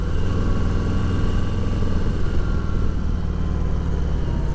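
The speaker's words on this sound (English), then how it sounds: "Excellent sounding exhaust also on any of the Harleys with the M8 motor." A 2020 Harley-Davidson Deluxe with the M8 motor is ridden on the road, its exhaust giving a continuous low drone blended into dense, steady road and wind rush, with no pauses or changes.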